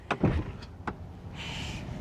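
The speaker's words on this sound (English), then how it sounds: "You can close your door with pressing on a button." Power-closing door on a Ferrari Purosangue: a few quick clicks and a soft thump as the door pulls shut, then a brief electric whir of the closing mechanism, all close up with no talking.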